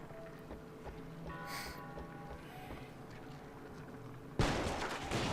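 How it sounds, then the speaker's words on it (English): In Resistance 3, a low, quiet stretch of rumbling background gives way to one sudden, loud gunshot and explosion burst that lingers and fades. "that shot and explosion didn't really do anything"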